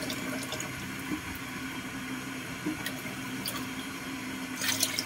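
Water pours and splashes steadily while a dog is rinsed during its bath, a continuous close gush with a few brief louder splashes near the end and no talk.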